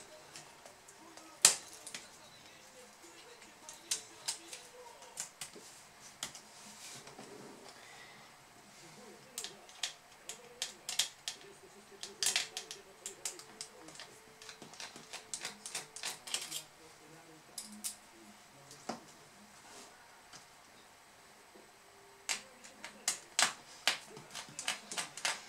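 Small screws are worked loose from the bottom cover of a Toshiba Satellite L50-B laptop after a drop, giving scattered sharp clicks and ticks in irregular bursts, close and fairly quiet, with occasional talk.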